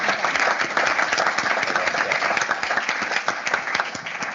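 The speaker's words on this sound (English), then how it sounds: "So big round of applause first for our panelists." A conference audience at an arbitration and ADR event claps for the panelists, a dense, sustained round of applause from many hands, close and even, tapering slightly at the end.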